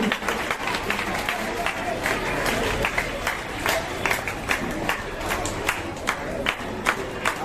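A crowd claps loudly at an event held at an English-medium school in Bhusawal, with a dense, uneven patter of hands, scattered sharper claps and crowd noise throughout.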